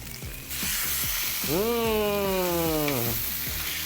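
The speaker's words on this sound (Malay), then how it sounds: "Tengok sound dia ya, bila kita masukkan daging tu, dia seal dengan cantik." Meat sizzles loudly in a hot wok, a bright crackling hiss that swells as the meat hits the oil, with a brief tonal whine over it.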